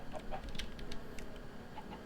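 Chickens in a Minecraft server, a few soft clucks and short chirping calls over a steady background hum, fairly faint and close.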